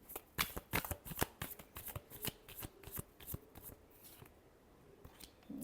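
Tarot cards get shuffled close up in a series of quick, crisp riffling bursts and soft slaps that thin out toward the end, quiet and with no talking.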